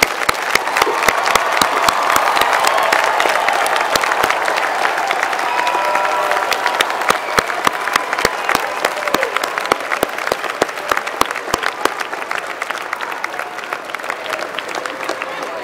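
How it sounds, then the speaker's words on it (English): Sustained applause from a large commencement crowd honoring the graduates at a University of Maryland winter ceremony, dense clapping filling the hall evenly throughout, loud and continuous with a slight taper toward the end. "please join me in one final round of applause for today's graduates"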